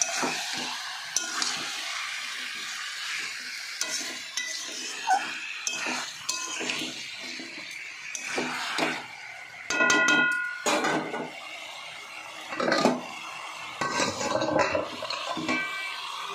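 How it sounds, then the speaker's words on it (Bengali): Fried potatoes being stirred and fried with chicken in a pan for an aloo chicken curry, producing steady sizzling with scraping and metallic clinks of a utensil against the pan, nearby and without talk. "ভাজা আলুগুলোও দিয়ে দেবো বন্ধুরা, তাতে মাংসের কষার সঙ্গে কষতে কষতে আলুগুলোও আমার সিদ্ধ হয়ে যাবে।"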